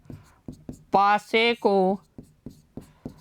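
Pen strokes on paper while a maths solution is being written out, a steady run of short scratchy taps with a brief stretch of speech in the middle.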